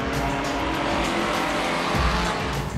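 A Ford Mustang racing car's 4735 cc, 380-horsepower V8 engine rumbles steadily and loudly up close, a dense continuous roar with no voices over it.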